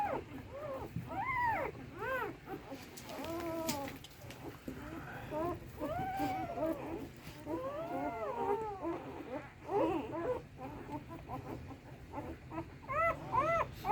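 Newborn hound puppies in a kennel whimpering and squealing, a litter of thin, rising and falling high cries overlapping in irregular bursts close by, over a low steady background rumble.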